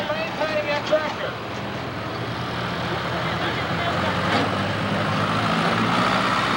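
Super stock pulling tractor at a 5,500–7,500 lb class tractor pull, a loud continuous engine roar that builds slightly and holds steady, with an announcer's voice over the top.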